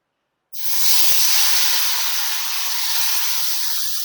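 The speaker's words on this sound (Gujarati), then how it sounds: "આપણે તેલ પણ આવી ગયું છે, તો આપણે પેલા બટેટા નાખી દઈએ" Diced potatoes tipped into hot oil for Gujarati-style poha give a sudden loud, steady sizzle that starts abruptly and holds bright and close for several seconds, with no voices over it.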